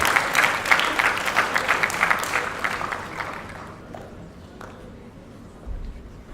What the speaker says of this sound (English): Mr. Bhatnagar, please give a big round of applause.